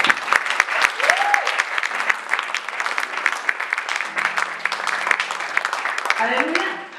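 A church congregation applauds in a sustained burst of dense clapping, close and loud, with voices calling out and singing over it.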